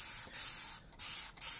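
Dawn Ultra Platinum Powerwash dish spray hisses from its trigger bottle in three short bursts separated by brief pauses, close and crisp over dishes in a kitchen sink.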